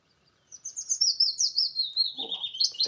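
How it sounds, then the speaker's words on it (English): A high, thin bird song trails downward in a sweet descending phrase, repeated notes close by, with a brief low rustle near the end. "This is a willow warbler, it's just visiting."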